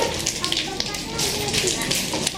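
Children at a lower primary school reading day event make a rain sound together, a dense pattering rush that swells and fades, imitated by voices and hands rather than real rain.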